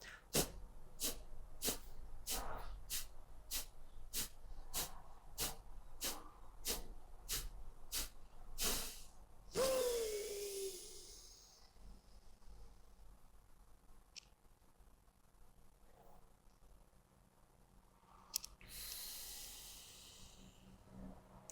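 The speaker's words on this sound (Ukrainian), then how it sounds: "Ось я продемонструвала цикл такого дихання. Ми робимо короткі видихи за допомогою м'язів живота." Kapalabhati breathing: a steady run of about a dozen sharp, forced nasal exhales driven by the abdominal muscles, evenly paced and close. A deeper breath and quieter rustling follow.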